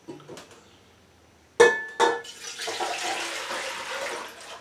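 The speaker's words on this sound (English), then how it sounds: "I'm going to just put everything in this pot and mix it" Cherry juice and other cooled ingredients for cherry moonshine poured into a pot and mixed, with two sharp clanks followed by a steady splashing pour of liquid.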